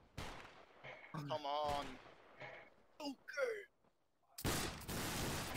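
A musket volley erupts in the Battlegrounds 3 line battle, a loud broadband burst of gunfire near the end following shouted voice chat among players.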